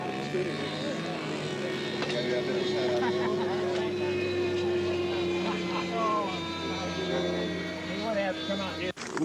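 A radio-controlled scale model airplane flies at a late-1980s fly-in and scale championship, its engine making a sustained droning whine that shifts in pitch as it passes, with crowd and wind noise around it.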